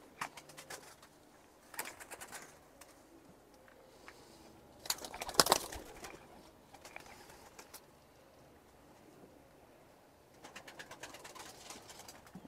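Long Face Boğma Hünkarı and Baska pigeons coo softly in a quiet space, with scattered faint calls and a brief flurry of sound midway.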